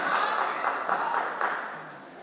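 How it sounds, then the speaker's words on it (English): Dense applause from an audience at a middle school awards ceremony, a steady wash of clapping that holds strong before easing slightly toward the end. "when you have a unique name, you get unique applause"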